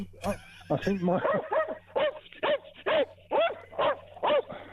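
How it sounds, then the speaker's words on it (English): A dog barks in a steady series of about eight sharp, evenly spaced barks, fairly close, with no talk over them. "Sorry, it's the dog. I'm walking the dogs."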